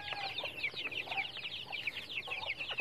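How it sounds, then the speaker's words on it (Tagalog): Farm chickens clucking and chattering together at feeding time, a busy overlapping flock close by with repeated short calls and no talk. "Pakain muna tayo sa mga manok."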